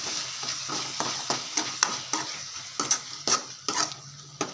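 Soaked puffed rice with turmeric is stirred in a pan, with a soft sizzle beneath repeated sharp clinks and scrapes of a spoon against metal at an uneven rhythm; no talking.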